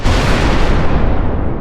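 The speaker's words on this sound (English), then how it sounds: "the explosion here was not that big of a problem" Cartoon explosion of a volatile lab smoothie mixed from reagents during an animated Mars vacation: a loud, dense blast roaring without pause and tapering slightly over under two seconds.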